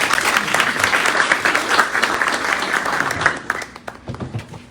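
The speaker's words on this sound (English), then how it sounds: "If we could give Ms. Felicia a hand and welcome" An audience claps in sustained, dense applause to welcome facilitator Felicia Goodman at a board governance training session, the clapping thinning into scattered claps near the end.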